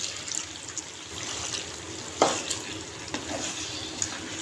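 Water pours into a pan of cooking cauliflower and potato, producing a steady hiss and sizzle with light stirring clinks, fairly loud and continuous with no speech.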